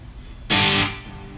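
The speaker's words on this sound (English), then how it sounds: "I keep this wet reverb on all the time." An electric guitar played through a wet reverb strikes one bright chord that sustains briefly, then decays into a lingering reverberant tail over a quiet background.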